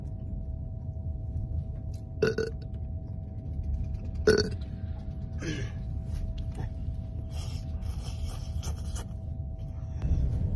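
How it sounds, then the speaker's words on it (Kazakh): Two loud, distinct burps from a person, about two seconds apart, followed by softer rustling and scraping noises in a quiet room. "Намектап кекіріп жіберіп жатырмын"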